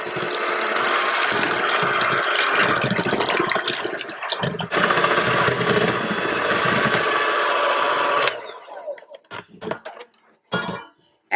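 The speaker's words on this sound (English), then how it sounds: "in a large bowl, beat eggs with the mixer on medium to high until thick and lemon color" Electric mixer beating eggs in a large bowl on medium to high speed, a steady loud whirring and rattling for about eight seconds before it stops, followed by a few scattered knocks and clatters.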